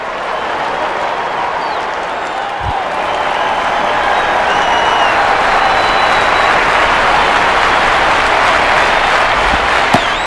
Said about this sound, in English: And a collective exhale from this crowd.